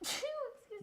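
One quick sneeze, a sharp airy burst followed by a short voiced tail, close and fairly soft.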